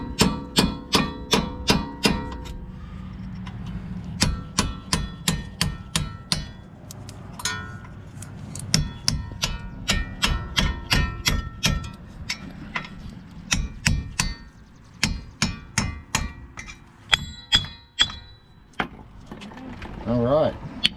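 A chisel is hammered to pry off a vehicle's ABS unit: repeated sharp metallic blows come in uneven bursts, some rapid and some spaced, close and fairly loud over a low workshop background.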